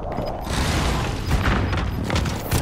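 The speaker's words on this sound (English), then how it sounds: "Be advised, friendly precision airstrike inbound." Continuous rumbling explosions and debris from a precision airstrike in Call of Duty: Modern Warfare, loud and dense throughout with several heavier booms rolling over each other.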